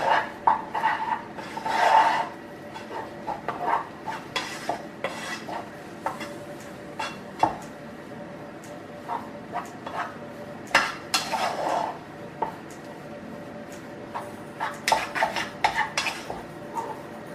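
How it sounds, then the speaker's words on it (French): Choux pastry dough being stirred with flour in a pan, uneven scraping and knocking of a utensil against the pan in irregular bursts, close and moderately loud with quiet gaps. "Vous mélangez bien pour plus qu'on voie le blanc de la farine."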